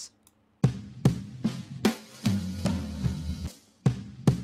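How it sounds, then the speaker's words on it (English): Drum loops run through an FM synthesis plugin, heard alone as loud percussive hits with sharp attacks and buzzy, metallic decaying tails in an uneven rhythm, about eight strikes with a short pause after the first. "I grabbed some drum loops,"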